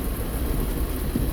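Steady rain drums on a car while driving, a dense, continuous wash of noise with a low rumble beneath, loud and close with no break.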